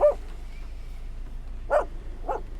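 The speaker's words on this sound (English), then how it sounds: "the dog that loved to yap" A dog gives three short, sharp yaps spaced apart, the first and second louder and the last slightly softer, over a low, steady background hum.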